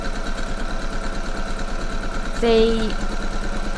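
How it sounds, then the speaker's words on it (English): A sewing machine stitches the side seams of a skirt from waist to hem, a steady mechanical hum running under a person talking. "I'm just sewing from the waist down to the hem,"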